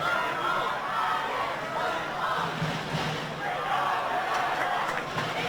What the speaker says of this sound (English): the crowd really starting to get boisterous here at Brown Park